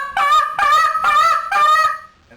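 A goose call plays four quick, excited honking notes in a rising push sequence, loud and close, each a reedy nasal blast with short gaps between and no talk.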